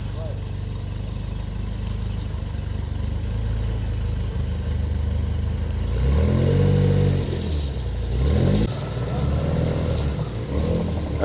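A Ferrari 3.8 GTS sports car engine at the Great St. Bernard Pass hums steadily, then swells twice in short revving surges, with a voice talking over it.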